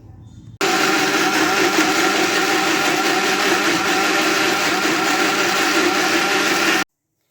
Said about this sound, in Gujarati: હવે આપણે મિક્સરમાં તેમને ફેરવીશું અને તેમની પેસ્ટ બનાવીશું